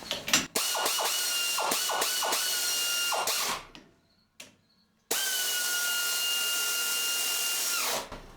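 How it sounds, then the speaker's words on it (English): An air ratchet tightening a 1/2 inch by 2 inch nut on a portable pipe squisher: loud, close, sustained pneumatic whirring with several short stutters, a brief pause, then one long steady run that winds down. "And then I like to use the air ratchet."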